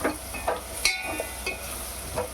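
Green peas and prawns frying for a curry, a soft steady sizzle with intermittent scraping stirs spaced about half a second apart.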